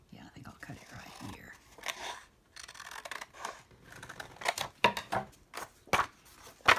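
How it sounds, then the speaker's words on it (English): Scissors snip through paper for a file folder flip journal in a series of crisp, close cuts that sharpen toward the end, with a soft whispering voice speaking in between. "Get some bigger scissors"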